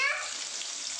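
Rohu fish frying in a pan gives a brief, steady sizzling hiss with a slightly stronger burst at the start, heard on its own.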